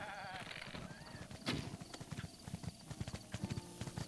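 Goats in The Legend of Zelda: Breath of the Wild move about, giving a run of light hoof clip-clops mixed with occasional bleats over the game's ambient sound, moderately loud and continuous.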